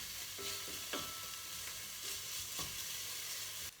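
Onions with chilli and garlic fry in a pan in a quiet, steady sizzle, broken by a few light knocks and scrapes of a utensil.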